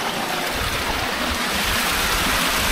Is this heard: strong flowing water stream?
yes